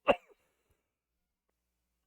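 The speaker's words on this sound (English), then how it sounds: "Luckily, I muted most of my coughing fit." A single short, sharp cough close to the mic, then near silence.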